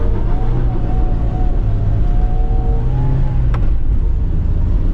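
A drift car held in a burnout, its engine roaring loudly and steadily at high revs for several seconds, the pitch wavering slightly with a brief sharp click partway through, no talking over it.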